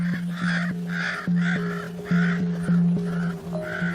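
Ravens calling in a wild winter setting, a series of harsh repeated caws from several birds, fairly close and loud, with a steady low hum running underneath.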